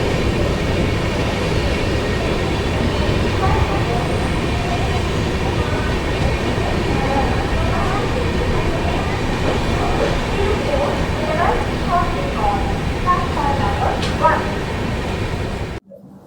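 Cheran Superfast 12673 rolling slowly, with steady rumbling and clattering wheels heard from inside the train and a voice talking faintly under the noise.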